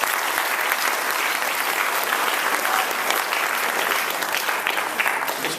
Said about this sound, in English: So please give them a quick round of applause.